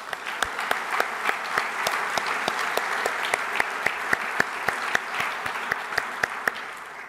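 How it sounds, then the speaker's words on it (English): Conference audience applauding at the opening of an aerospace event, sustained steady clapping with sharp individual claps standing out across the full stretch, fairly even in level throughout. "Let's give them an applause."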